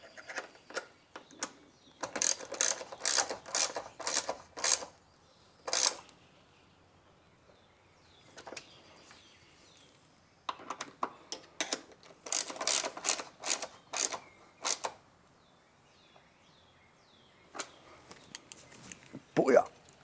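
A ratchet wrench tightens the nut on a Jeep grab handle, giving several bursts of quick, sharp, close metallic clicking separated by short pauses.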